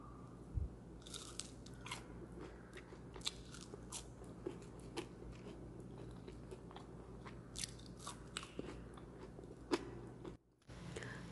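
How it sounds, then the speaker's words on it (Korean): Crisp crunching bites into home-fried potato wedges, a series of sharp crackly crunches and chewing close up, repeated irregularly with no talking. "소리 들으셨죠? 정말 바삭바삭하고 맛있어요."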